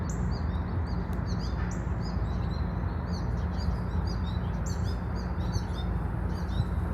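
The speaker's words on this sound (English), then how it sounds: "it's fun to listen to all the birds" Small birds chirp and call repeatedly in an autumn neighbourhood garden, a steady scatter of bright tweets over a constant low rumble of nearby construction noise.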